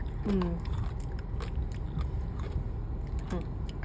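Close-up crunchy chewing of a jellyfish snack, with several crisp bites and crackling munches in quick succession over a low background hum.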